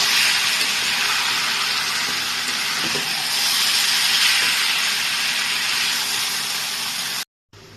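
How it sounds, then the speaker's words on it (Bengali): Taro (man kochu) with turmeric frying in a wok while being stirred, a loud continuous hissing sizzle that holds steady for about seven seconds before cutting off abruptly. "এটাকে আমি ভালো করে নাড়তে থাকবো যতক্ষণ না এটা ভাজা ভাজা হয়ে পুরো কড়াই থেকে উঠে যাচ্ছে"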